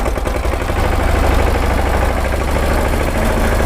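A Mahindra Yuvraj 215 NXT 15 hp mini tractor fitted with a loader runs at a steady idle, its loud, close diesel chugging continuous and rhythmic with no talk.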